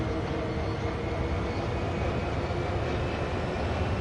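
A train in Train Sim World 2 powers up with a steady, dense low rumble and hum that holds evenly throughout, with no talk.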